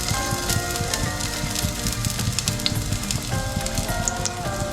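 Garlic sautéing in a pan for a vegan Thai green curry, a dense, continuous close sizzle and crackle of hot oil at a steady loud level, with no talking.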